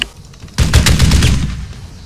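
Machine gun fire in the video game Arma 3 breaks out suddenly, a loud, close, rapid burst that rattles on for over a second before tailing off, with no talking.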